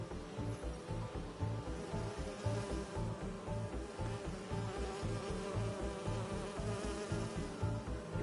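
Bee wolves in Marvel's Spider-Man 2 give off a continuous droning buzz, close and steady, layered over a low rhythmic game soundscape with no voices.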